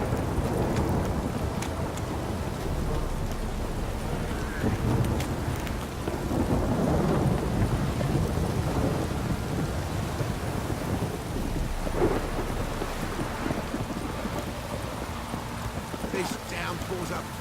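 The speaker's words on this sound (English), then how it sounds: "This downpour's a bastard" A heavy thunderstorm in The Witcher 3 brings steady, loud downpour with rumbling thunder beneath, while horse hooves clip-clop through the rain and voices talk over the storm.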